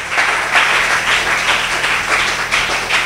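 A church congregation applauds and cheers during a French-language sermon: dense, continuous clapping with rising swells, loud and close, with faint cries mixed in.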